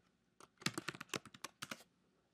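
Quick bursts of typing on a computer keyboard while entering data into a terminal for an RN42 Bluetooth module with an Arduino. About a dozen close, quiet key clicks come in a fast run.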